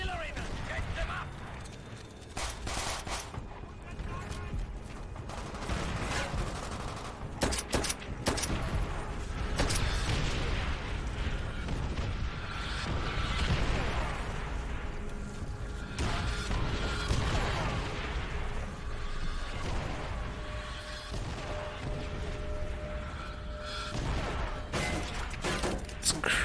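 Artillery fire and explosions in the Call of Duty: World at War video game, with repeated booming bursts and mechanical clatter. The sound is dense and continuous, with voices talking over the battle.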